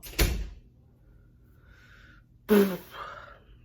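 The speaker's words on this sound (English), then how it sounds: "The door's not closed. Close the door." A door swinging shut indoors, giving two solid knocks roughly two seconds apart with quiet room tone between them and no talking.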